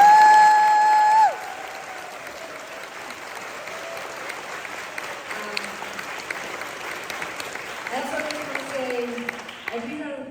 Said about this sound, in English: A huge round of applause to all of you for coming out